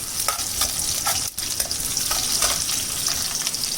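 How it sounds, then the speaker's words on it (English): Chopped ginger and green chili sauté in hot oil, with a steady close sizzle and soft stirring scrapes throughout and a brief dip near the middle. "Now I will add my ginger, green chili and saute nicely."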